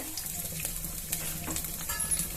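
Mustard seeds, cumin and chana dal crackle in hot oil while cooking aloe vera flower poriyal, a soft steady sizzle with scattered small pops, faint and close, no voices.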